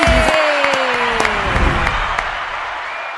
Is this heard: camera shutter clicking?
no